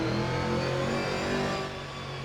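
Camaro GT4 race car from the Assetto Corsa racing game, revving hard with a dense, steady engine roar that eases slightly near the end; no talking.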